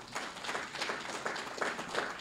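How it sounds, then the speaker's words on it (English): A crowd at an awards and fundraiser event applauds, with steady, dense clapping that carries on without a break for a couple of seconds and has no voices over it. "Let's give them a round of applause."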